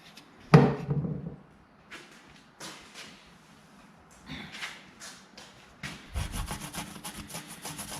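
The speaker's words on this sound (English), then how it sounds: "There's a lot less scrubbing involved in using the Scotch-Brite pad." Scotch-Brite pad with WD-40 scrubbing white lettering, heard as scattered rubbing strokes, a knock near the start, and a faster rhythmic scrubbing run at the end, close and fairly quiet, with no talking.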